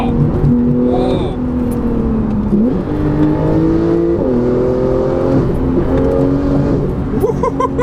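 Tuned Porsche 911 991.2 Carrera 4S pulling hard in first gear from low revs, the engine note climbing steadily through several rising sweeps, loud and close from inside the cabin, with excited voices breaking in over the engine.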